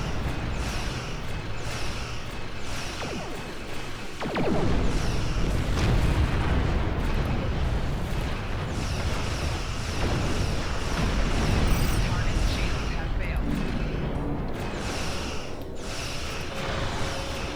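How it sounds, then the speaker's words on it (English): Starship torpedoes fire and detonate in the space combat game Star Trek Online, a sudden loud boom near the four-second mark giving way to sustained rumbling explosions and dense battle noise, with a voice talking over part of it. "I have torpedoes in the back for this."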